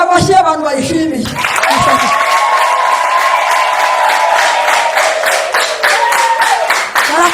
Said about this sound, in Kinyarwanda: Nashaka kumva amashyi y'abantu bayishimiye.